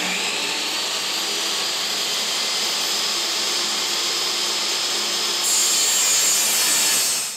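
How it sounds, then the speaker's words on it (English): A table saw rips wood into 1¼-inch-wide side and back shelf support pieces, a steady, loud, continuous cutting roar held close throughout with no talk, brightening slightly near the end as the blade finishes the pass. "I just reset my table saw for 1¼ inches wide. This will be to rip my side and back shelf support pieces."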